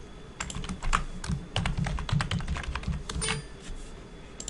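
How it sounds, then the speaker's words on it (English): Fingers typing on a computer keyboard in a rapid, uneven patter of light clicks, close and fairly quiet with brief pauses, no talking. "Let's type that."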